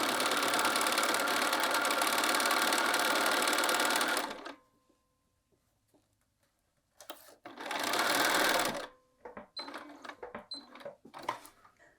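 A domestic sewing machine stitches straight across a bias binding strip in two steady runs, a long burst followed by a shorter one after a pause, then a few light clicks and handling sounds.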